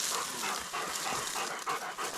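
Hunting dogs pant hard right after catching a wild boar, with rapid, rhythmic breathing close by and a faint whimper mixed in.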